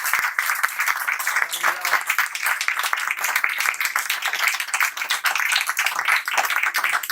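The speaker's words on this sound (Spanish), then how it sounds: "Un aplauso." Audience applause at a cultural society talk in Ibiza, a dense, steady wash of many hands clapping that fills the whole stretch at a fairly loud, even level with no voices over it.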